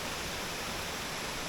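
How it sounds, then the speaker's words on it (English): A waterfall cascading over rocks gives a steady, broad, unbroken rushing roar, loud and even throughout with no other sounds. "It's just an amazing waterfall."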